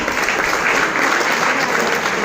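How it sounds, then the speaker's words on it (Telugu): An audience in a hall claps in unison, a bright, dense and continuous patter of many hands at close range, steady and fairly loud from start to finish with no talk over it. "మేము అడిగిన క్వశ్చన్స్కి ఓకే క్లాప్ చేయండి"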